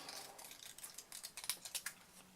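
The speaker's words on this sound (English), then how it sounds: "this isn't really taking me too long just to cut around the bow" Scissors snip around a paper bow, a quiet series of short, crisp cuts coming faster toward the end, close by with nothing else heard.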